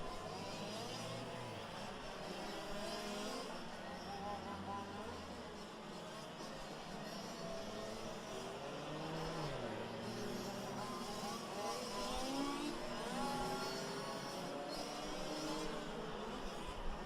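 Quarter-scale (5th scale) RC touring race cars lap a track in an STC A Main race, small engines buzzing and whining continuously at mid distance, with a commentator talking over the racing.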